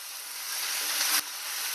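Leafy greens sautéing in a pan, a soft continuous sizzle heard close up, with a short scrape of stirring near the end.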